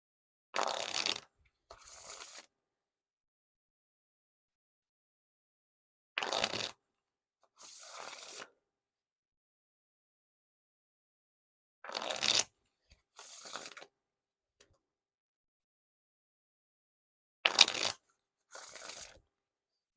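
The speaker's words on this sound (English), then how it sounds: "now on to the Wiffle Shuffle or Bridge Shuffle." Ellusionist White King Slayer playing cards given riffle and bridge shuffles, four pairs of short crisp riffling bursts, each a quick ripple followed by a softer bridge cascade, spaced apart by silence and heard close up.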